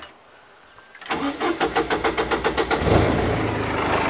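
A Cummins ISB diesel fitted in a 1947 Dodge Power Wagon cranks with a rapid, rhythmic starter chug for about two seconds, then catches and settles into a steady, loud, close idle.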